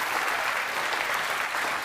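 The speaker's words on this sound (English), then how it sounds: "have a round of applause." A studio audience at a televised quiz show bursts into applause, a loud continuous roar of clapping that holds steady and dense throughout the brief moment.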